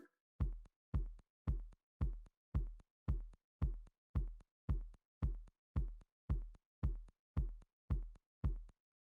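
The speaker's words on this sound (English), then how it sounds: "Let's listen to the kick alone." A lone kick drum programmed in FL Studio at 112 BPM thumps in an even, steady pattern, about two deep punchy hits per second with quick decay and silence between them, with no other instruments.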